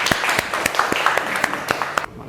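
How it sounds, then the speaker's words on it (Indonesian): Classroom applause for a student group: a quick, steady patter of hand claps from several people, close by, with some voices underneath, cutting off near the end. "kita kasih aplaus yang meriah untuk kelompok 1"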